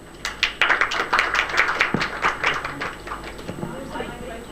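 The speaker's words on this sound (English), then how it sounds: "let us all for a round of applause for them" An audience at an academic workshop on digital platform work in Indonesia gives a round of applause. Brisk, dense clapping rises quickly, holds for a few seconds, then thins and fades.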